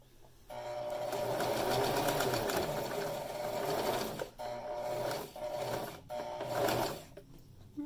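A sewing machine stitches fabric with ribbon attached, its rapid mechanical whir running in close, loud bursts with short pauses between runs and no speech.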